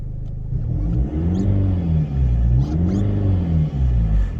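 A modified 2013 Skoda Fabia 1.6 TDI Monte Carlo diesel revs up and down in quick swells, with loud intake whoosh and a louder-than-stock exhaust rumbling close by.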